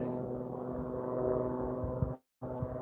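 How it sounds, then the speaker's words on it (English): A steady low droning engine hum, like a propeller plane passing, holds throughout before cutting out abruptly near the end and then resuming. "Hear an airplane."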